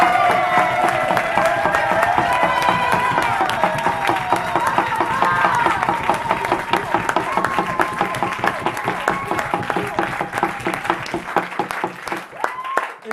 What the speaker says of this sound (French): un tonnerre d'applaudissements s'il vous plaît pour Zébian